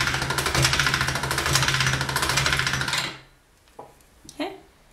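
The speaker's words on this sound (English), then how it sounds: "you want to run this through a pasta machine and lengthen it" Polymer clay is cranked through a metal pasta machine, giving a steady loud grinding rattle for about three seconds, then stopping, followed by a few soft handling clicks and knocks.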